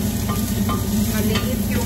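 Onion sizzling steadily in hot oil in a pan while being stirred, a close, continuous frying hiss with soft scraping.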